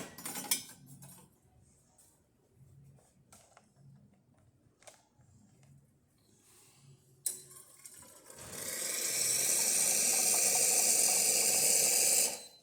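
Hot water runs from a machine's tap in a steady, loud hiss that starts after some light mechanical clicks and clatter and keeps going to the end.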